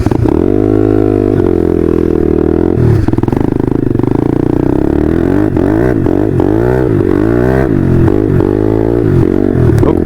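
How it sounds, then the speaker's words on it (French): A small-engined dirt bike runs loud and close, its engine note rising and falling as it revs and rides along, with rattling clatter mixed in and no talk. "L'avantage des Dirt, c'est que ça a tendance à faire beaucoup de bruit pour le petit moteur que ça."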